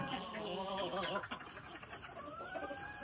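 Chickens on a small poultry farm, clucking and crowing close by in a busy, overlapping chorus, fairly quiet overall.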